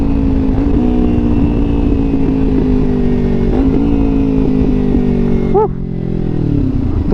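Motorcycle engine running steadily while riding toward Eco Ardens, a continuous loud drone with a brief pitch drop near the end as the revs shift.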